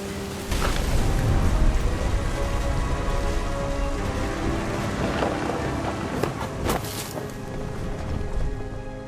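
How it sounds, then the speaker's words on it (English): Steady rain pours across the whole stretch in the game What Remains of Edith Finch, with wind and faint rumbling of thunder underneath, a few louder bursts rising near the middle and end. "The thunder sounded much too close and full of angry power."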